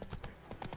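Horse hooves clip-clop at a steady walking pace in The Witcher 3, a few quick soft hoof beats close by with no voices.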